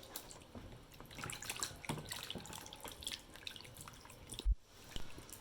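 Potatoes are washed under running water from a tap, giving a steady, soft splash and patter with small drips and knocks throughout, and one brief pause near the end.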